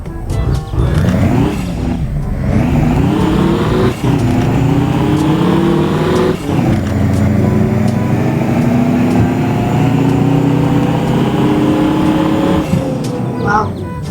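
Military army transport truck engine in a Thai soldier roleplay video game, revving in a sustained loud drone that climbs and holds in pitch, with brief dips between pulls on the throttle, close and steady.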